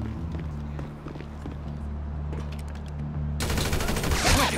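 Gunfire in Grand Theft Auto V, a sudden loud burst of rapid shots at the end after a stretch of low background rumble and scattered small impacts.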